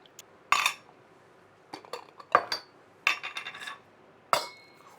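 Sterilised glass jars, lids, a funnel and a spoon clink and clatter while hot and sweet chilli sauce is jarred up, sharp separate knocks and chinks coming in irregular bursts close at hand, with quiet pauses between them.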